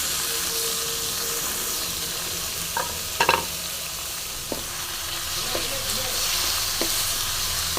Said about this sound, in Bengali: পেঁয়াজটা আমি একটু ভালো করে মিশিয়ে তেলের সাথে ভালো করে ভেজে নেবো আমি